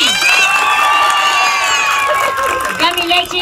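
A live comedy show audience cheers and whoops loudly for a performer, a dense crowd roar with high shouts that swell and fade, with a voice calling out over the noise near the end.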